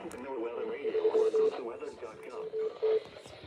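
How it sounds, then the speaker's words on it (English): Morse-like interference tones cut through a radio receiver, short steady beeps repeating in uneven bursts beneath a person talking nearby. "What kind of a Morse code was that?"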